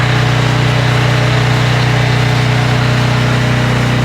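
A concrete pump truck engine runs at a building construction site, a loud, steady low drone that holds unchanged throughout with no voices.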